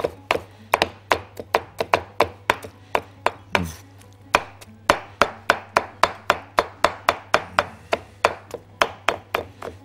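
Roasted, peeled bell peppers are chopped by hand with a knife on a wooden board, a steady run of sharp, close taps with a brief pause partway through and no talking.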